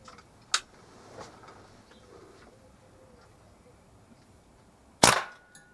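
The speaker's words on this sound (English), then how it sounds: "Last shot coming up, number 10." A Kral NP500 air rifle fires a single sharp, loud crack near the end, preceded by a few faint clicks and light handling noise in a quiet outdoor setting.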